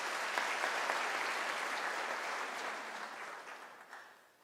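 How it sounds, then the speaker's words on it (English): A crowd applauding at a University of South Africa autumn graduation ceremony: a thick wash of clapping that starts full, holds for a few seconds, then gradually fades toward the end. "Can you give her another round of applause?"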